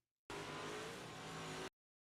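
A race car engine on a short-track oval, a single loud sustained roar at steady pitch that cuts in abruptly, holds for under a second and a half, then stops sharply.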